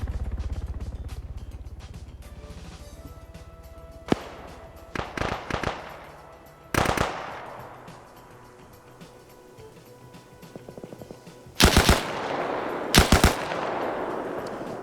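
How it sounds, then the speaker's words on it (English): Automatic gunfire in a military video game PvP match, heard as scattered short bursts and single shots that grow louder and sharper toward the end, with no talking. "More shots over here as OPFOR are still desperately trying to get away."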